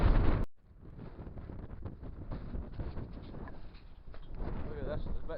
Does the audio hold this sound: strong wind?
yes